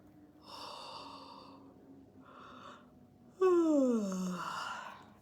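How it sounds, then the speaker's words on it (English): A person yawns twice in a quiet room, each time a soft breathy exhale, and then gives a louder, drawn-out final yawn whose pitch slides downward. "Nice yawning happening, guys."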